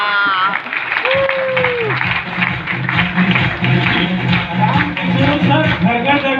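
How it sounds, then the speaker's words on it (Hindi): An audience at a business presentation bursts into loud, sustained applause, steady dense clapping filling the space throughout. "एक बार जोरदार तालियां"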